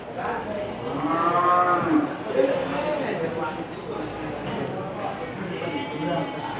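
Cattle lowing at the Pasar Kliwon live cattle market in Kudus, a few drawn-out moos close by over busy market murmur and background voices.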